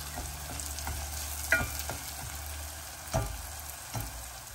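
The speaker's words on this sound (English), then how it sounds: "And now we'll just give it a stir and just let this cook off, and you want it to go really nice and brown" Onions and curry leaves frying in oil in a pot for Fiji-style dhal, a steady close sizzle broken by repeated scraping stirs and a couple of louder clacks of the spoon.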